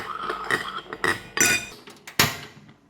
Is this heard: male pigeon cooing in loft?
no